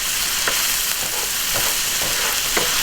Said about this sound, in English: So I'm dumping the dry mustard and ginger in there.